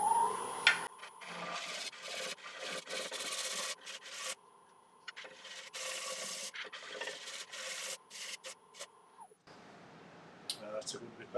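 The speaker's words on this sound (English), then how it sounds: "I'll just try a pass with this 60-degree ball gouge along the bottom and see can I get it to clean up a little bit better." A 60-degree ball gouge cuts across the bottom of a monkey puzzle wood bowl on a lathe, making a steady rubbing, scraping hiss in repeated passes with a high whine, then stopping before quieter handling near the end.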